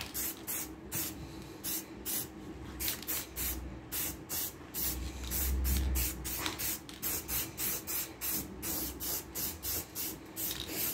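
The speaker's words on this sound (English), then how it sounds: "A little bit of aerosol black here." Black aerosol spray paint is applied to a restored Land Rover Series 2a front axle in short repeated hissing bursts, close and fairly loud, with a few brief pauses between passes.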